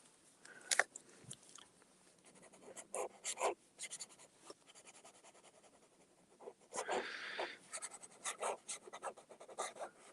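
A pen scratching across paper close up, bursts of quick strokes with pauses between them, faint at first and busier and louder toward the end.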